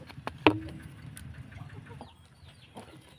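Chickens feeding on special feed in a Lao farmyard give soft, scattered clucks, quiet and close, punctuated by one sharp knock near the start and light rustling.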